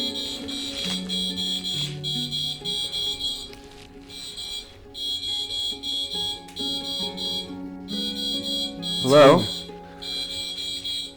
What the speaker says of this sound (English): Oh, I just heard like a beep beep.